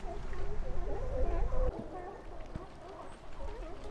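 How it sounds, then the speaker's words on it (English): Outdoor birds, likely fowl, giving a series of clucking, honking calls at moderate distance, mixed with people talking and laughing nearby. "Frickin' birds, you spooked him."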